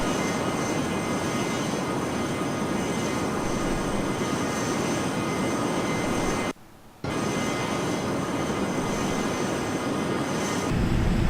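A Learjet's jet engines in the Air Hauler flight game, a steady broadband roar with a whining tone that cuts out abruptly for a moment, then resumes and swells toward the end.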